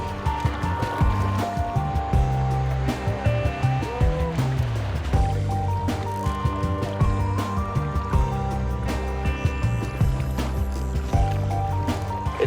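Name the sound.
group paddling a boat forwards on water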